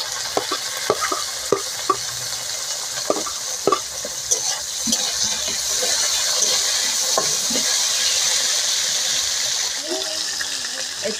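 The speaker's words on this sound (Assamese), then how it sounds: "এতিয়া বিলাহীটো দি দিব তেলতে।" Tomato going into hot oil with fried onion for a meat curry, sizzling loudly while a spoon scrapes and stirs in sharp knocks, then a steadier frying hiss takes over; a voice briefly speaks near the end.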